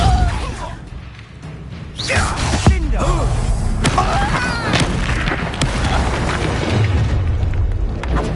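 Spell blasts boom and crackle in the Hogwarts Legacy video game, heavy repeated impacts and whooshing magical effects layered densely over one another during combat, with a character's voice calling out spells between the hits.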